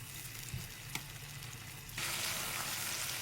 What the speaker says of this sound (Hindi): 5 मिनट तक इसी मसाले के अंदर गोश्त की भुनाई करेंगे।